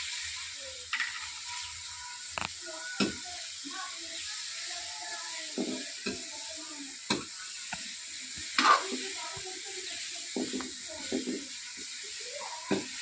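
Oil sizzles softly as tempering spices fry over a high flame, under scattered stirring clatter and sharp pops, steady and close, with occasional speech in the background.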